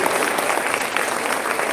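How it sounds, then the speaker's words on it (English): An audience applauds the Deloitte team at a charity event, a dense, steady round of many hands clapping at even loudness throughout, with no talk over it. "Can we please give them a round of applause?"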